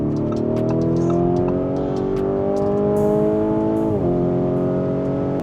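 A sports car engine screams loudly and continuously while driving, its harmonic pitch climbing steadily before dropping sharply at a gear shift, then rising again.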